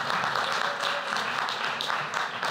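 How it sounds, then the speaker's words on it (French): Conference audience applauding a speaker from Bordeaux, a brief, steady burst of many hands clapping at moderate distance with no voices over it. "je pense qu'on peut l'applaudir"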